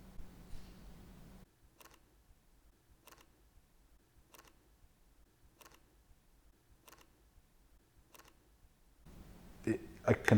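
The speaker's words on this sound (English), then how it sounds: "this is the XH1 shutter, and this is at 250th of a second" Fujifilm X-H1 mirrorless camera shutter firing at 1/250 second, six faint, crisp clicks evenly spaced about a second apart in near silence, framed by handling noise and room sound at the start and end.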